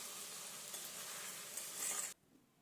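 Chicken being fried in an oiled pan while it is stirred gives a faint, steady sizzle with soft scraping, cutting off abruptly near the end.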